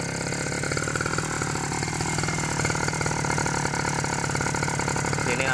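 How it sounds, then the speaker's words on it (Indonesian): Lawn mower engine modified into a water pump runs at a steady idle, a continuous even mechanical drone with a regular firing pulse, close and loud throughout. "Nah ini dia mesin rumput yang sudah dimodifikasi menjadi"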